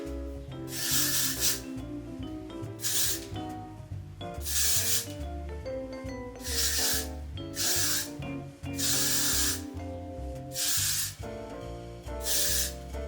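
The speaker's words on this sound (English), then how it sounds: "Now I'm going to spray the shit out of it." Repeated bursts of aerosol hairspray hiss in short blasts with brief pauses between them, close by, over a faint musical background.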